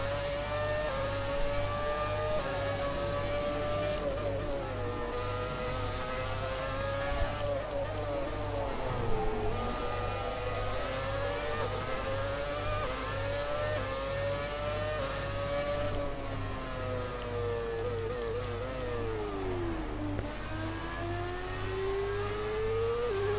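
A McLaren Formula 1 race car engine in the video game F1 2017 howls steadily for the whole stretch, rising and falling in pitch through upshifts and downshifts, loud and continuous with no talking.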